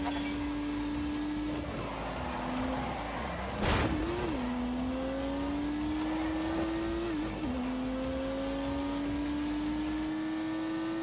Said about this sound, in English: unleashed 365 rampaging horsepowers from the turbocharged 3-litre straight six